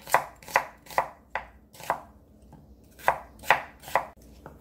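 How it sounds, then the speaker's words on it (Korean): A knife chops through half a medium onion on a board in about ten crisp, evenly spaced strokes, each a close, sharp thud with a short tail, with no talk. "양파 중간 크기 반 개만 썰어주세요"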